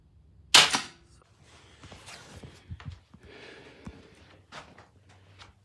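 One sharp, close report from a pellet air rifle, with a .177 Weihrauch and a .22 Avenge-X in use at the range, followed by faint handling rustles and soft breathing.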